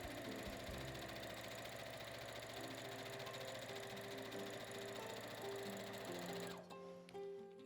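A sewing machine stitches a seam at close range, a rapid steady mechanical whirring rattle that stops near the end, leaving a brief quieter moment.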